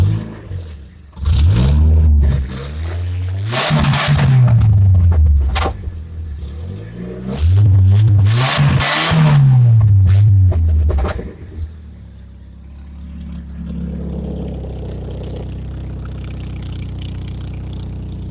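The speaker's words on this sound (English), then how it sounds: "it's a 4-cylinder, so it's more like a 4-cylinder pitch, but it still sounds pretty decent" A Chevrolet S10 pickup with a 2.4L four-cylinder engine and a Cherry Bomb exhaust revs hard twice, each blip rising and falling in a raspy four-cylinder tone, then settles back to a low, burbling idle.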